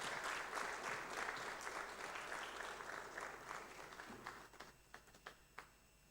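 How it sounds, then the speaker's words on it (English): An audience at a Publishing Studies colloquium at KNUST claps in sustained applause that thins out toward the end into a few isolated, sharper claps. "A round of applause for her"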